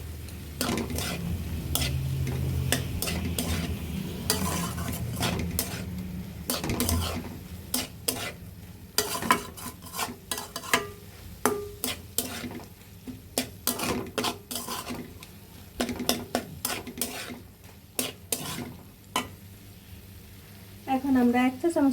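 Chicken and potato filling with chilli, coriander powder and soy sauce being stir-fried for a chicken bread recipe, with a steady low sizzle under repeated sharp spoon scrapes and clinks against the pan, plus a brief bubbling near the end.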